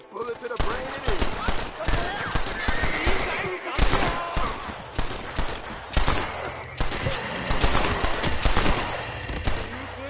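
Gunfire in the Western video game Red Dead Redemption, dense rapid bursts of shots and cracks filling the whole stretch, loud and continuous with almost no pauses.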